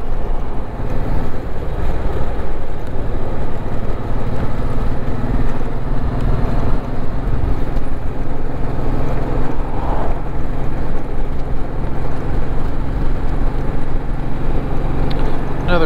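A Honda VTX 1800 motorcycle fitted with an aftermarket windshield rides along a road, giving a continuous, loud, low engine rumble mixed with steady wind roar.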